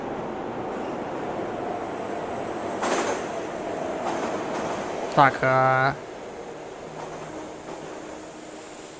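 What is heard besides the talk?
ghost train passing in Minecraft film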